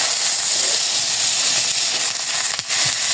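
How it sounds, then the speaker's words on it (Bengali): Vegetables for Bengali shukto drop into hot oil in a pan, setting off a loud, steady broadband sizzle and hiss that fills the whole stretch with only slight dips. "তেল দিয়েছি, এখন শুক্তোটা দেব।"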